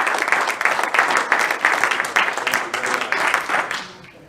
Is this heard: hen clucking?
no